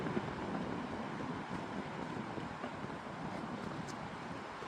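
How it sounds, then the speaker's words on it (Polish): Wind blows from the east outdoors, a steady, loud, unbroken rushing roar buffeting the microphone, with no voices. "wieje od wschodu"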